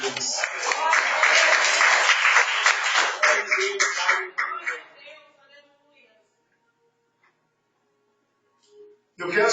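A church congregation applauding during a worship service, loud dense clapping for several seconds that fades away into near silence, with voices mixed in.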